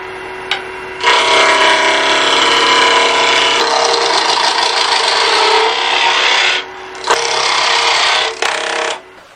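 Wood turning on a lathe at around 2,000 RPM makes a loud, steady, rasping whir that runs for several seconds, drops out briefly a few times, then resumes, with no talking.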